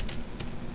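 Typing on a computer keyboard, with a few quick, close key clicks over a low background hum.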